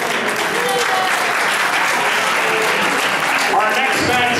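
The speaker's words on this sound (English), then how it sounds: "give them a round of applause one more time." A crowd at an independent wrestling show applauds with a loud, steady wash of clapping and cheering, with voices mixed in throughout the noisy hall.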